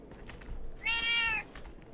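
A single clear cat meow rings out in the video game Dying Light, a short mid-pitched call rising over quiet background game noise.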